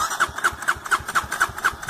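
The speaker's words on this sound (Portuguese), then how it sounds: "Liga a moto!" A dirt motorcycle engine on a trail ride cranks rhythmically as someone tries to start it, about eight even, quick turning pulses up close without catching.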